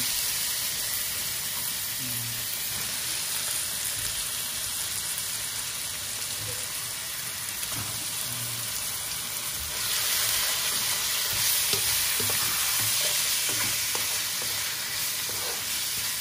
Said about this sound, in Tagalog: So, lalagyan natin yung pork kasi matagal ang pork lutuin.